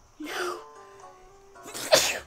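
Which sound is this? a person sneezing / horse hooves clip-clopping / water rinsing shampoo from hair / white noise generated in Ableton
a person sneezing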